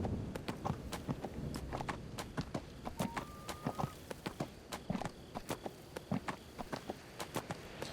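Rapid, steady hoof clip-clops from a horse being ridden in the video game Neverwinter, close and continuous over a busy game soundscape, with a brief tone partway through.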